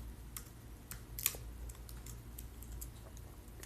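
Quiet, sparse computer keyboard typing, with a handful of light, irregular key taps and one slightly sharper click over a low steady room hum; no talk.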